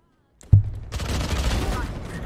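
Gunfire in Valorant: a sharp shot followed by a rapid spray of closely spaced rounds, loud and continuous against quiet game background.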